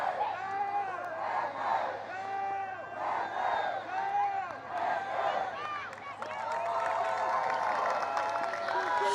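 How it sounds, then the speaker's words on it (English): A baseball crowd at a high-school playoff game between the Panthers and Terriers chants and cheers in rhythmic rising swells, loud and sustained, building into a broader roar near the end. "And here comes the crowd."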